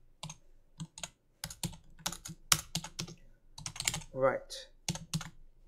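Close, quiet typing on a computer keyboard in short bursts of key clicks with brief pauses between them, and a voice speaking a word partway through.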